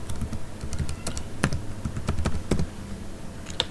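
A password being typed on a computer keyboard: quick, uneven key taps close by, with a few louder strokes standing out over a low background hum, and no speech.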